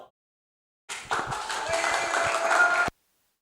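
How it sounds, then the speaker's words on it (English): An audience at a Gavel Club meeting applauds a finished speech: a burst of dense clapping about two seconds long begins suddenly after a brief voice, holds steady, then cuts off abruptly. "Everyone give a big applause to Cavalier Salo."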